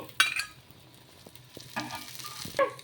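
A cucumber dosa cooks on a hot pan over high flame with a soft, steady sizzle, broken by a few scraping and clinking touches of a utensil. The sound is quiet and close, with no talking.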